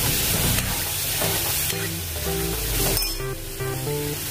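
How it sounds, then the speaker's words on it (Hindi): Masala for restaurant-style chole fries in oil in a pan, giving a steady loud sizzle with some stirring scrapes and a few bright metallic clinks near the end. "अच्छे से तेल छूटने तक इसको भूनेंगे अपने मसाले को"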